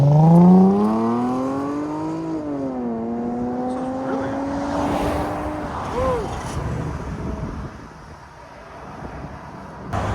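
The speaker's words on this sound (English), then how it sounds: "this is with the valves open" A 2023 Lexus IS 350 with a 3.5L V6 and Valvetronic exhaust valves open revs up, then holds a steady drone as it drives off, with wind buffeting the microphone.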